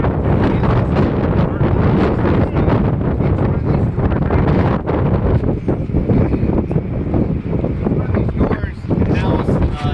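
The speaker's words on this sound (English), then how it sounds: "Sorry, it's windy on the waterfront." Strong gusting wind on a waterfront buffets the microphone continuously, loud and rumbling, while a person talks underneath.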